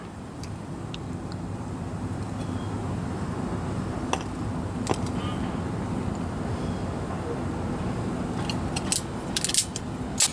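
Ratchet wrench tightening a tie rod on a 1997–2004 Ford F-150, with continuous close mechanical clicking and grinding over a steady broadband hum, a few sharper metallic clinks near the end.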